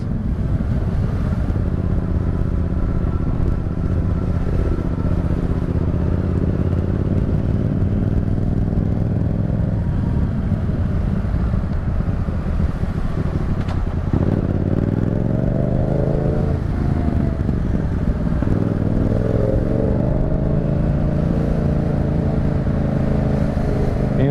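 Motorcycle fitted with an aftermarket Tiger exhaust, riding steadily with a constant engine drone, then revving up and down in rising and falling sweeps midway, close and loud with no talking.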